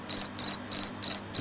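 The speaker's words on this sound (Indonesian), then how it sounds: "Iya, itu ternyata si jangkrik." A cricket chirping close and clear, five evenly spaced shrill trilled pulses repeating in a steady rhythm over a quiet background.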